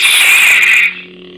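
Replica Graflex Luke Skywalker neopixel lightsaber igniting: a loud bright hissing surge that settles after about a second into a lower steady electric hum, close and alone.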